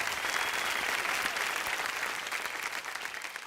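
Audience applause at the IBFA award show in Dubai, a dense, steady burst of many hands clapping that fades slightly toward the end, with no talk over it.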